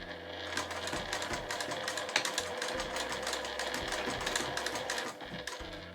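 A home sewing machine stitches fabric 1.5 cm from the edge while making a small cloth glasses or passbook case, a steady rapid mechanical whir with fast regular needle clatter running throughout.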